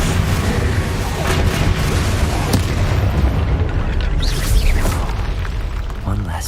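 Explosive spells go off in the Hogwarts Legacy video game, a loud continuous wash of booming blasts and rumbling debris, with a voice shouting spell names over the combat.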